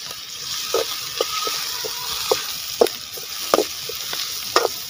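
Onions and a sprig of curry leaves fry in a pan, giving a soft continuous sizzle marked by a series of sharp spatula scrapes and knocks at uneven intervals, close and clear with no voices.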